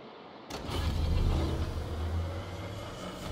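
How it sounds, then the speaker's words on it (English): A destroyer's engine boost kicks in within the World of Warships naval game as a sudden swell of broadband rumbling roar that starts abruptly and then holds steady and loud. "Engine boost activated."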